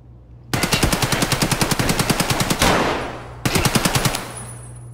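Rapid automatic gunfire from a hunter gun in a video game, two close, loud bursts of evenly spaced shots separated by a short pause, with no talking.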